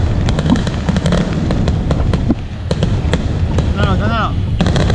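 Midnight Christmas fireworks in Melaka near Jonker Street, rapid irregular cracks and bangs popping continuously over crowd noise, with a brief whistling rise partway through and people talking around.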